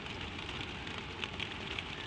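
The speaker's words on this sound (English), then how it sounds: "under the slates, with the rain over your head" Steady, dense rain pattering on a slate roof overhead, a continuous even hiss with a few slightly sharper drips standing out, close and moderately loud, no voices.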